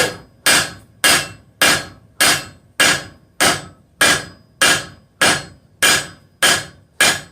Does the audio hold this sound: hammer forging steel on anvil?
yes